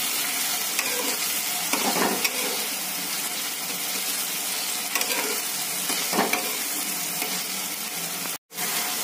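Chicken frying in a pan and being stirred: a steady, loud sizzle with soft scraping strokes of the spoon throughout, and no talking.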